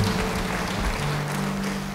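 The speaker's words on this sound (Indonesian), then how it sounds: "Yang percaya beri tepuk tangan bagi dia." Worshippers at a church service applaud, a dense, continuous wash of clapping with a low hum underneath and no voices.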